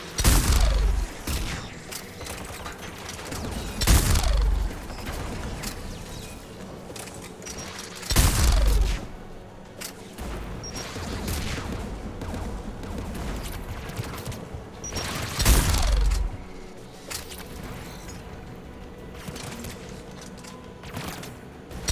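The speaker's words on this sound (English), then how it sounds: "Geth anti-aircraft guns are up ahead." Geth anti-aircraft guns firing in the video game Mass Effect 3, heavy booming volleys every few seconds over a continuous rumbling, clattering battle background.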